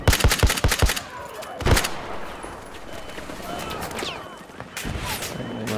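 Bursts of rapid automatic gunfire and single shots in Battlefield 4 multiplayer, loud close volleys at the start and around two seconds, then fainter distant firing and battlefield noise.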